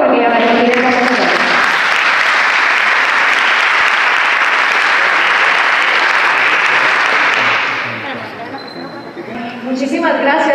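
An audience at a talk on poverty bursts into loud, dense applause that lasts about eight seconds and then thins out, with speech and chatter before and after it.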